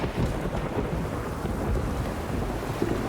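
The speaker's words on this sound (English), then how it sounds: "It's raining." Steady rain with rolling thunder in the video game The Witcher 3, a dense, continuous rumble and hiss holding at an even level throughout with no talk.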